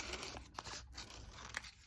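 Paper is cut into a section for a small Hepworth-style sculpture maquette, giving a few quiet, close scissor snips and crisp paper rustles over about two seconds.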